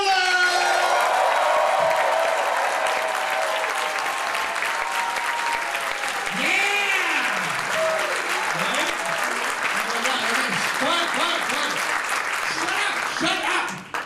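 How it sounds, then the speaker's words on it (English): A comedy taping audience breaks into loud sustained applause and cheering with whoops to welcome host T.J. Miller, the clapping dense and continuous while a voice speaks over the crowd noise. "Put your hands together for the host of the evening, T.J.Miller!"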